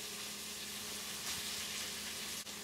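Thin onion slices and poblano pepper strips fry in hot oil in a pan, giving a dense, steady sizzle with a brief soft clatter near the end.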